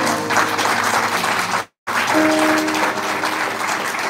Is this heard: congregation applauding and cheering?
yes